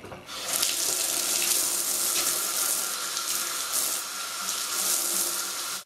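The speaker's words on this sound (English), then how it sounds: "then I'm going to rinse out all the bundles" Running water rinses dyed ombre virgin hair bundles under a tap, a steady close splashing hiss that continues without a break.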